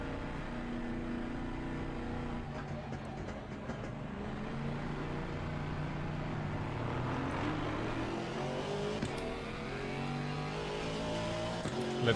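A GT4 race car in Assetto Corsa Competizione runs on the Laguna Seca track, its engine note rising and falling through gear changes at moderate level, with other cars faintly audible, steady throughout.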